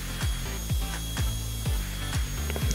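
A CNC machine milling a number and name plate, taking a 0.7 mm pass, makes a rhythmic grinding whir that repeats in even pulses about every half second, loud and close with no talk.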